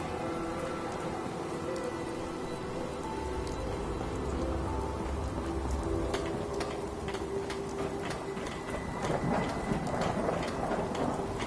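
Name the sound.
rain in video game Fallout 4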